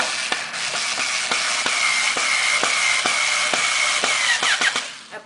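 Power drill driving a small eye hook into the back of a painting's frame to attach picture wire, a steady close whine running unbroken for about five seconds and slowing down at the end.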